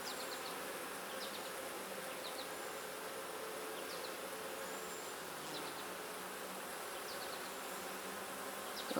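Honey bees buzzing around an open beehive during a brood frame inspection, a dense, steady drone of many insects close by, with no talk.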